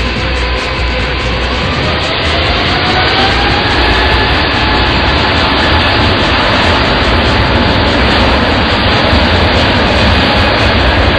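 An Emirates Airbus A380 jet takes off with a loud, continuous roar of engines. The sound stays heavy and sustained with no break.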